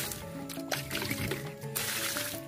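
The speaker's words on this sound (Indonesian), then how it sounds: "Kita siramkan saja sini semua." Water is poured onto the soil around a longan tree, a close, wet splashing and trickling that soaks into the ground without a break.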